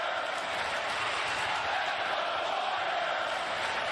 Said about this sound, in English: Boy, listen to that cheer. That's not canned noise.